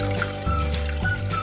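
Vinegar pours into a pan for a pickling brine, a soft trickling stream over a low, steady hum, close and fairly quiet, without talk.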